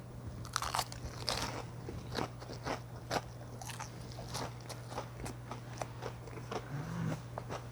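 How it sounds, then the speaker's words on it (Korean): Fried chicken bitten and chewed up close, with crisp crunches and crackles repeating in an uneven rhythm over a steady low hum, no talking. "프라이드 한 번 먹어볼게요."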